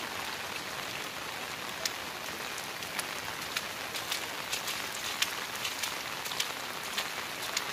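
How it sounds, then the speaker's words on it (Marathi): Heavy monsoon rain pours steadily in Kankavli, Sindhudurg, in the Konkan, a dense continuous hiss of rain on surfaces with scattered sharper drop impacts throughout, no voices. "आणि आज दिवसभर पण पाऊस आहे"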